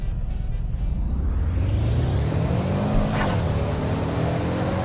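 A car with a five-speed manual accelerates at full throttle, its engine roaring up through the revs, with a rising whine, a brief dip around a shift, then a sustained loud pull close to the microphone.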